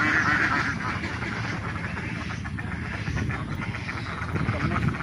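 Domestic ducks and geese at a duck farm beside a pond call in a dense, continuous chorus of quacks and honks, loud and close throughout, with faint voices mixed in.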